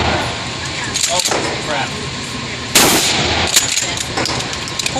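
Rifle shots crack out during target shooting with a few people, one sharp loud report standing out, with brief spoken exclamations nearby.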